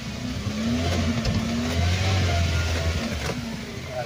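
A car engine idling with a steady low hum that swells into a light rev toward about 700 RPM, recorded close up with faint workshop noise around it and no talk.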